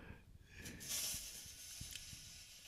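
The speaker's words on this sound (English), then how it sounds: "this is a creeper from Minecraft" Minecraft creeper hiss as a video game sound effect, a faint breathy fizzing hiss of a few seconds heard alone.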